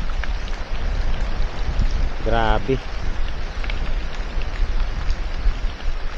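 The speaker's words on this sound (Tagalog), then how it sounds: "okay lang tong gandong ulan eh, masarap naman to eh" Rain patters steadily on a black sand beach and nearby trees at a seaside camping and fishing spot in Naic, Cavite, a continuous hiss with a brief spoken exclamation partway through.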